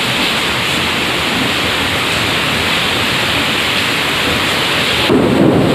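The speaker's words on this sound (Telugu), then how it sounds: "ఉరుముతుంది." Loud thunder rolls through steady heavy rain, a continuous dense roar with a swelling rumble near the end, heard alone without voices.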